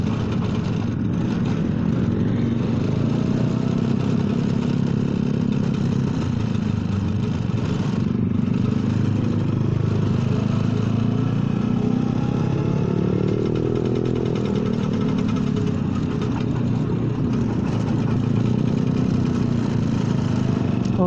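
A Vespa scooter engine running steadily while being ridden through town traffic, a loud, close, continuous droning putter with slight pitch shifts as the rider eases on and off the throttle, heard alone without talk.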